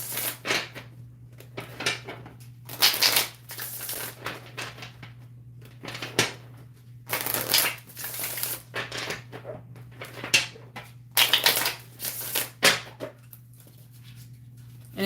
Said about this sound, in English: Let me just reshuffle for you, MC